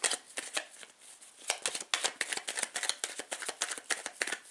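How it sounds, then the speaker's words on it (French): A deck of cards is shuffled by hand in quick repeated riffles and flicks, crisp papery bursts in an uneven rhythm, close and fairly quiet. "Je bats les cartes et puis en fait je vais faire un tirage."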